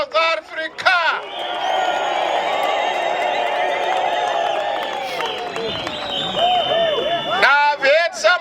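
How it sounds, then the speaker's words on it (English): A rally crowd in Johannesburg cheers, whoops and whistles loudly for South Africa over steady clapping, a dense sustained roar lasting several seconds with voices rising above it. "Let us clap hands for South Africa."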